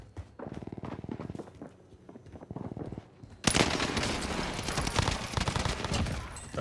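Rapid automatic gunfire from a gun in the video game Warzone comes first as a fast rattling burst, then swells into louder, denser sustained firing with heavier impacts, with no talk over it.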